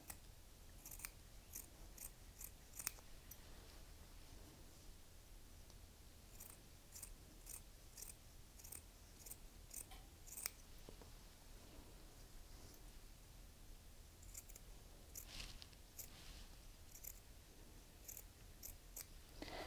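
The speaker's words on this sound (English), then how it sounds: "You're going to have to trim the pleat." Scissors trim a fabric pleat in a long series of soft, crisp snips that come in irregular clusters, close and quiet, with no talking.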